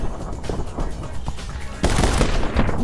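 Gunfire in the video game My Friend Pedro, a dense burst of rapid shots that grows louder and fuller partway through, with a voice briefly heard in the background.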